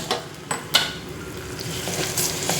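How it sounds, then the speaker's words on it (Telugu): Guava and tamarind chutney is stirred into hot tempering in a pan, giving a steady close sizzle broken by a few sharp spoon-on-pan clinks, with no voices. "పచ్చడి వేసేద్దాం వేసేసి కొంచెం అటు ఇటు కలిపేద్దాం"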